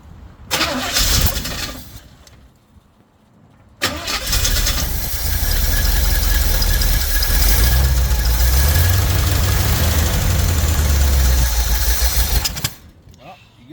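A cold pink Jeep engine with too much fuel cranks briefly, falls quiet, then catches and runs loud and rough for several seconds before cutting off.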